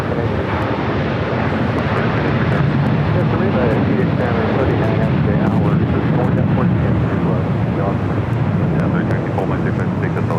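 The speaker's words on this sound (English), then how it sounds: "It's Flight 15 heading back to Tokyo Haneda in that A350-1000." An Airbus A350-1000 jet at LAX, heading out to Tokyo Haneda, produces a constant, dense broadband roar that stays loud and unchanging throughout, mixed with wind buffeting and the murmur of nearby voices.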